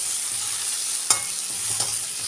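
Onions sautéing in oil for a garlic-chutney lunch-box dish give a steady close sizzle, broken by two sharp utensil clinks as they are stirred; no one speaks.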